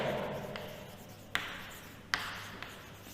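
Pen writing on paper in a quiet room, a soft continuous scratch with a few sharp taps as strokes begin, close and faint.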